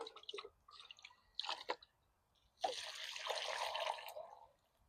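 Soil being watered in a food forest garden: a few light drips and splashes, then a steady soft pouring splash of water onto the ground for about two seconds, close and quiet.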